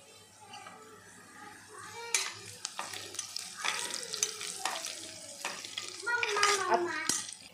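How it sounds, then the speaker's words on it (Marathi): Sautéed onions sizzle in a pan as shahi cumin is added for chicken yakhni pulao, with scraping stirs and sharp utensil clinks over a soft steady fry. "कांदा परतून झालाय। याच्यामध्ये मी शाहीर जिरा टाकत आहे।"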